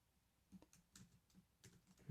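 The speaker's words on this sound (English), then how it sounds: "So we'll just type in struct second" Several quick keystrokes on a computer keyboard as Swift code is typed in Xcode, in short irregular bursts of close, light clicks with brief pauses between them.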